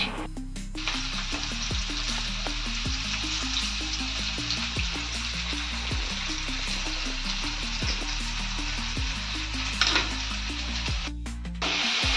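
Pasta sizzles and fries in a hot frying pan in a home kitchen, a continuous crackling hiss with stirring scrapes and a brief watery swell near the end, close and without talk.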